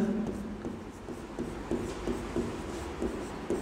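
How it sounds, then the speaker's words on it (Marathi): A name being written on a board by a teacher, with soft, faint rubbing strokes in short irregular bursts against a low room hum. "नाव परत लिहितो"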